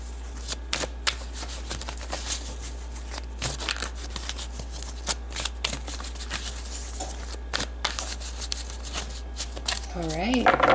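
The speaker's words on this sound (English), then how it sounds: "I'm going to pull some Wisdom of Oracle cards just to get more information about this energy here." Wisdom of Oracle cards being shuffled: a run of quick papery riffles and flicks, close and fairly faint, with a steady low hum underneath and a voice talking over the shuffling.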